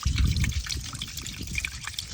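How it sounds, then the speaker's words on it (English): Water poured into the scuttle panel area of a VW Golf Mk7 parked on a slope during a leak test, a steady close trickle and splash that is strongest at the start and carries on without talk. "This is the test I think should leak, firing water into the scuttle"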